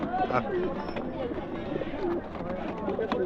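Pigeons coo in low, throaty bursts at an outdoor pet bird market, under close conversation and general crowd murmur.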